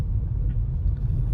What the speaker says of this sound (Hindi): अभी देखो मैंने हार्ड एक्सीलेटर है किया